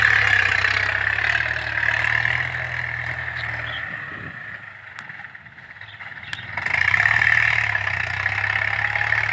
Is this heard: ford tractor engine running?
yes